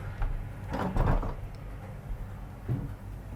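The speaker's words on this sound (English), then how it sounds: "let me get this door closed" A door aboard a Lazzara UHV 87 yacht swings and shuts with a couple of soft thuds, followed by a quieter knock a moment later in a quiet indoor room.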